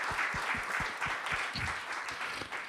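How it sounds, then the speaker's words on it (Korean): A church congregation gives a short round of applause. Individual claps are distinct and come in a quick uneven rhythm, close and moderately loud, lasting under three seconds. "우리 살아계신 하나님께 우리 감사와 사랑의 박수 올려드리겠습니다"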